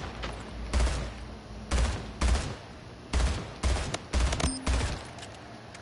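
Bursts of rapid automatic gunfire from the arena shooter Splitgate, several loud close volleys separated by brief pauses, with no talking.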